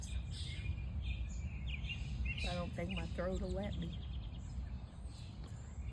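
Morning birds singing outdoors, a short burst of rapid chirping calls in the middle, fairly faint under steady background noise while a person talks nearby.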